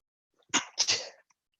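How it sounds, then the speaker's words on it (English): A single close hay fever sneeze, a sharp intake followed by a loud burst, alone in a quiet room. "I'm going to sneeze in a minute"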